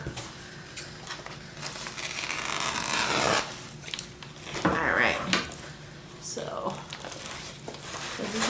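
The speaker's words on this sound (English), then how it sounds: "You can see the chaos as I unwrap it" Packaging around a newly delivered houseplant and its soil being unwrapped, with crinkling, rustling and scraping in uneven bursts, close up and fairly quiet, with brief louder handling noises in between.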